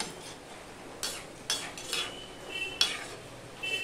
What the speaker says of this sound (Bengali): এবার সম্পূর্ণটা ভালো করে মিশিয়ে নিলাম